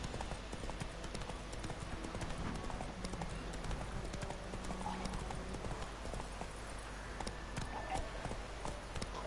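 Hooves of Roach, a horse in a video game, clip-clopping in a steady rhythmic gait throughout, moderately close, over a constant bed of howling wind.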